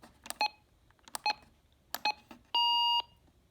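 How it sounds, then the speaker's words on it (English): A RadioShack 12-261 weather radio signals lost reception: three short double beeps at even intervals, followed by one longer sustained tone, clear and close over faint background noise. "it beeps when the signal is lost."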